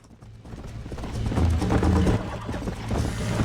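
Horse hooves clip-clopping in the Red Dead Redemption video game, a steady run of close, fairly loud hoofbeats that build after the first second and carry on to the end with no talking.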